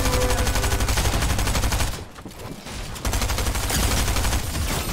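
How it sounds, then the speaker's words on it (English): An SMG in a video game fires in dense, fast automatic bursts that are loud and close, with a short pause midway before the rattle resumes, and no voices. "this SMG just mowed through him and his build"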